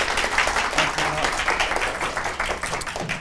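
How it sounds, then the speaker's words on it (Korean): A lecture audience gives a dense, steady round of clapping that holds at an even level throughout, without a clear fade. "큰 박수로 맞아주십시오"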